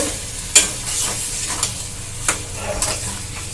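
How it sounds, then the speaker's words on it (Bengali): Ginger-garlic paste being stirred and sautéed in a pan for capsicum chop filling, with a steady sizzle under sharp spatula scrapes at irregular intervals, close and fairly loud. "সেই আদা রসুন বাটার পেস্টটা দিয়ে ভালো করে মিশিয়ে নিয়ে আবার এটা কষবো"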